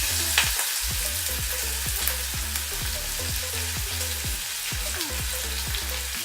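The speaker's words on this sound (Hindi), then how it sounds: "अभी मैं ऑनियन को 1 मिनट तक लिए फ्राई कर लूँगी" Chopped onion and green chili fry in a pan with dal and crackling mustard seeds, giving a loud, continuous sizzle with rhythmic stirring scrapes repeating about every half second.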